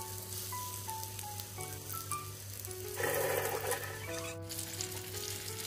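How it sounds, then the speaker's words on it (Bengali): Egg kofta balls fry one by one in oil over moderate heat for nargisi kofta, a soft continuous sizzle with brief bursts of bubbling, heard beneath faint background music. "এই জিনিসগুলিকে আমি খুব ভালো করে ভেজে নিচ্ছি"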